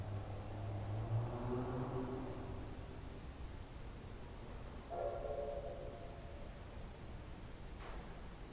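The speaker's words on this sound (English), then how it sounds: "Okay, train coming in." A train at the Northern Nevada Railroad Museum pulls in, sounding two drawn-out horn blasts over a steady rumbling wash of rail noise at moderate distance, the first longer and lower.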